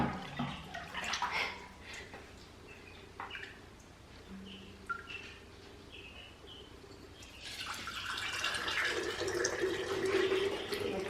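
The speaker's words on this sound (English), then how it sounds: "Pour spout on this measuring cup just gets it all over." Beef broth streams from a measuring cup's pour spout into a container, quiet at first, then a steady, louder splashing pour building toward the end.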